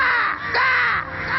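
A man imitates a crow's cawing with his voice, giving two or three harsh, nasal caws in a row, close and fairly loud, with no other talk.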